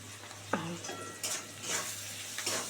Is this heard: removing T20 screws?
no